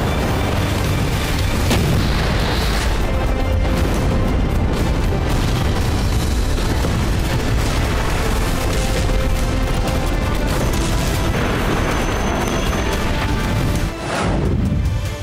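K9 Vajra self-propelled artillery guns fire in heavy, rumbling booms, loud and dense, running throughout with little quiet between shots.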